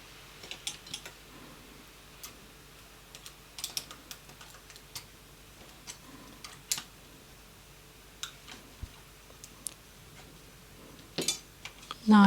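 Stitches are bound off on a knitting machine: a faint, irregular run of small clicks and ticks from the carriage and tools, close but quiet, with no voices.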